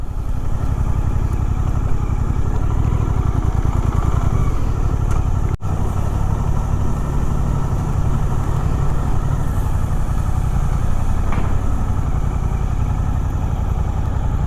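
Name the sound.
Suzuki GSX-8R motorcycle engine at low rpm in first gear on incline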